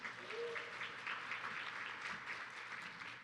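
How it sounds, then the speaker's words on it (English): Soft, distant applause from an audience at a Texas workforce forum, a steady wash of many hands clapping at low volume for a few seconds without a clear rhythm. "You can give that a round of applause as well."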